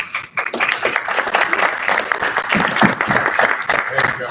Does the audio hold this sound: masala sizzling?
no